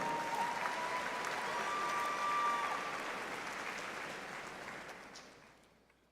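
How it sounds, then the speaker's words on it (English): An audience at a spring university commencement ceremony applauds doctoral graduates, broad steady clapping from a large hall that swells slightly and then fades away toward the end. "Please join me in extending another round of applause for our doctoral graduates."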